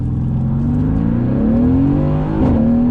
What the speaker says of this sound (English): I wanted to just do a little bit of a acceleration from a dead stop here, just to give you the flavor of the AMG GT